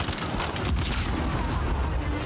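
Heavy gunfire in the Uncharted 4: A Thief's End shooter, loud and continuous with overlapping shots and booms filling the whole stretch.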